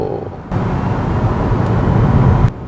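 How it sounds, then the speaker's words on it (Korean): A Hyundai Ioniq 5 electric car accelerates in sport mode. Cabin road and wind noise jumps up abruptly, holds as a loud, steady broadband rush for about two seconds, then drops back down. "스포츠 모드에서 가속을 해보죠"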